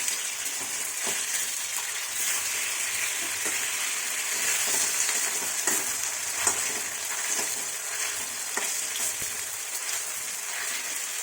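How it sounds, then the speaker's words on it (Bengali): Paneer pieces fry in hot oil in a wok over a raised flame, a dense steady sizzle and crackle with scattered small pops and light scrapes, close and continuous throughout. "এবার কড়াই তেল গরম হয়ে গেলে পনিরের টুকরোগুলোকে আমি এর মধ্যে দিয়ে নেব দিয়ে ভেজে নেব"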